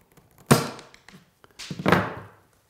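A nail, shaped into a makeshift drill bit, has its head snap off and fly, heard as two sharp, close knocking impacts about a second apart, with quiet between them.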